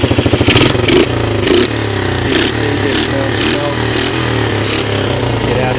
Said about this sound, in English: what do we have running here off in the distance? The 125 lives.